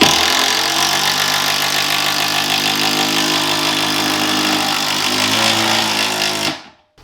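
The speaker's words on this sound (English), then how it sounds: "I thought it'd be a good idea to show you how powerful this drill is" A cordless drill runs at full speed, a loud, steady high-pitched whine with a motor hum beneath it, holding constant for several seconds before cutting off abruptly.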